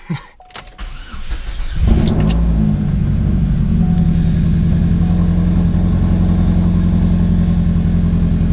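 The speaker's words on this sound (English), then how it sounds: "Cold start up in a Cobalt." A 2006 Chevrolet Cobalt SS engine cold-starting: a brief cranking, then the engine catches and settles into a loud, steady idle that continues to the end.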